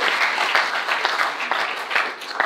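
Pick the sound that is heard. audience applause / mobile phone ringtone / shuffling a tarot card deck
audience applause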